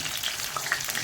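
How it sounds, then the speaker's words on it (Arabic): Peppers frying in hot oil for moussaka give a steady, close sizzle with small crackling pops. No one speaks. "انا بحب اول حاجه احمرها الفلفل"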